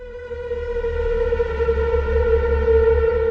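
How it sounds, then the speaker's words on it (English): A steady, droning siren tone with rich layered overtones and a throbbing low pulse, sounding processed and eerie, continuous and fairly loud. "and then layered with this siren sound"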